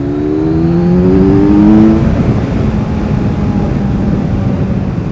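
A Kawasaki Ninja 1000SX with a slip-on exhaust drones loudly and steadily on a mountain road, its pitch rising briefly then settling into a continuous close engine roar, with rushing wind throughout.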